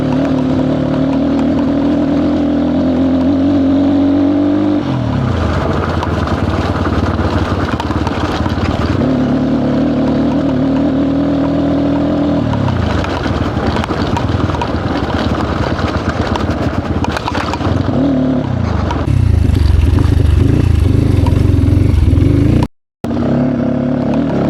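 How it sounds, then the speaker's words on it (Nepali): Several motorcycles ride a rough, bumpy road toward the China border, engines droning loud and close, dipping and rising in pitch as riders slow and accelerate over uneven ground, ending in a brief cutout. "हामी चाहिँ यस्तो चिटिया ठाउँबाट लान्छौँ है बाइकहरू चाहिँ।"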